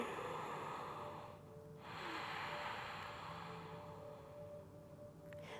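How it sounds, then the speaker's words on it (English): Ujjayi-style oceanic breathing during yoga asana practice, drawn through a constricted throat as a steady close breathy rush, a long exhale then a slow inhale, alone. "Maybe you can make an oceanic sound with it."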